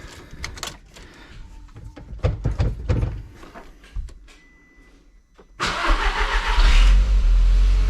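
Some clicks and rattles, then a Mk1 Audi TT engine cranks and catches after its battery terminal is reconnected, settling into a loud, steady running roar close by.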